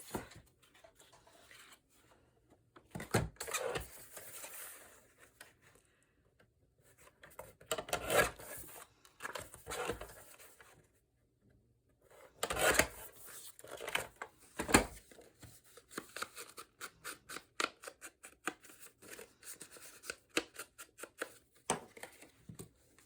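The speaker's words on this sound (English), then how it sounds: "So we want to cut these to be 5 1/8." Paper cards for a mini album are trimmed to size in a quiet room, with bursts of rasping, sliding cuts and rubbing strokes that come in short clusters separated by near silence, close by.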